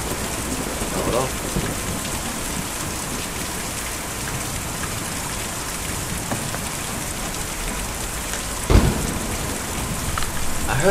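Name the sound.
rain and thunder in the video game Kentucky Route 0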